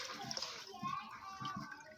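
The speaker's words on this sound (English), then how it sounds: "So I'll pour in my oil phase first." Hot oil phase for a coconut milk and aloe vera body butter pours into a clean bowl, a soft continuous trickling stream under a quiet voice.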